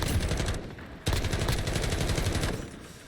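Rapid automatic fire from a G36C rifle in the video game Modern Warfare, in dense, loud, continuous bursts with a brief pause about a third of the way in, then a steady stream of shots. No voices are heard.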